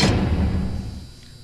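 A door in the horror game Five Nights at Candy's slams shut with a heavy, booming thud that fades into a long, dull reverberating tail, with no talking.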